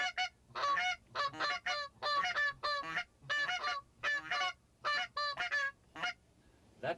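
Two hunters blow goose calls together to mimic a flock of wild geese, producing a rapid, steady series of nasal honks close by and moderately loud, overlapping like several birds calling at once.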